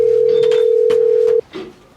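A steady telephone dial tone hums alone for over a second, then cuts off abruptly, followed by brief faint clicks and a short tone.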